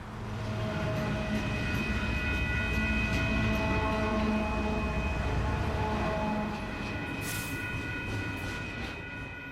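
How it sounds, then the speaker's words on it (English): A train rumbles past at steady volume, a broad mechanical roar with tonal hums, loud throughout and easing slightly toward the end. "The ghost train, or phantom train as it's sometimes called"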